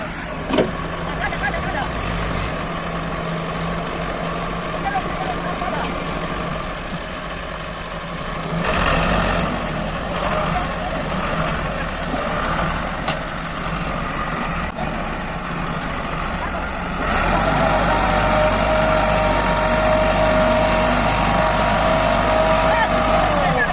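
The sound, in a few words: tractor engine straining to pull a stuck trolley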